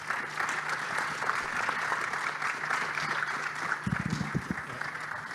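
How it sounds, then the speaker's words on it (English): An audience at an economic forum on African financial institutions applauds the panelists, a steady moderate wash of clapping with a low hum underneath and a brief murmur of voices near the end. "we can have a warm round of applause for all of panelists."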